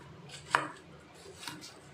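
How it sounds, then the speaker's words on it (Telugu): A knife cutting watermelon into pieces on a board, two distinct close chops about a second apart over faint background hiss, with no talking. "కట్ చేసేసుకోండి ఫ్రెండ్స్"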